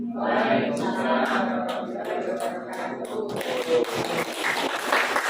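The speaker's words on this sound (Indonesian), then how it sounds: "Kita beri aplaus yang lebih meriah lagi." Audience in an indoor teacher training presentation gives a lively round of hand clapping, fairly close and irregular, with voices and cheering mixed in toward the end.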